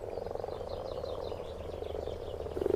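A chorus of male frogs croaks together in a valley pond during spring breeding, a steady dense pulsing of many overlapping calls, fairly loud and continuous with no voices.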